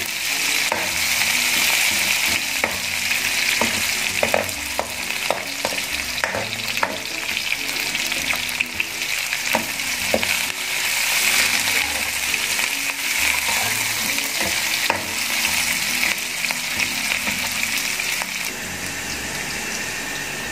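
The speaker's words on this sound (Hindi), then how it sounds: "ऑयल में प्याज शामिल कर दिए हैं और अब हम इनको लाइट ब्राउन करेंगे।" Sliced onions frying in oil in a pan until light brown, a loud, constant close sizzle with frequent stirring scrapes and clatters, no voices.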